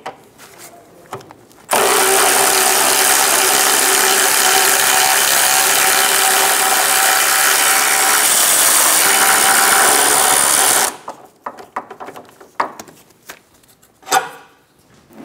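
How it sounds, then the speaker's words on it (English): A tool drives a 17 millimeter socket on a front lower rearward control arm bolt of a 2003-2007 Honda Accord, running loud and steady for about nine seconds, then quieter clanks and handling noises follow. "Using a 17 millimeter socket,"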